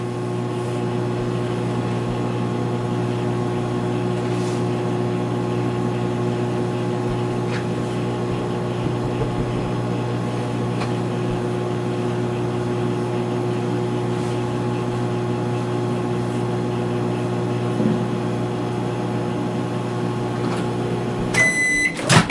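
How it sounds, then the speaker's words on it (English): A microwave oven melting caramels hums steadily and loudly for a long stretch, then its timer beeps several times in quick succession at the end, with no talk. "we're just waiting for the microwave timer to go off"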